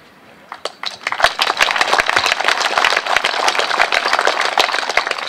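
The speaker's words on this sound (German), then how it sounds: "Applaus" An audience at a residents' meeting in Berlin Altglienicke breaks into applause, dense rapid clapping that starts sparse, swells within a second and holds steady and fairly loud to the end, with no voices over it.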